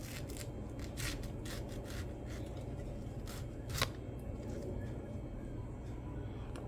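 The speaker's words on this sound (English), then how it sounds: "You just cut it like this in two, and you just cut the core out." A knife cuts the core out of a halved pineapple, making a quick run of close, crisp slicing and scraping strokes over a steady low background hum.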